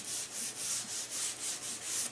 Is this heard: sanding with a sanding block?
yes